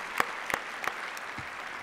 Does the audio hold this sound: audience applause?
yes